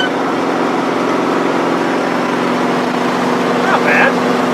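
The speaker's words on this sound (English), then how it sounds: "No, the straight pipe is like objectionably loud" A half-ton two-wheel-drive pickup with a straight-pipe exhaust drones loudly and steadily at highway speed, with a constant low engine hum throughout.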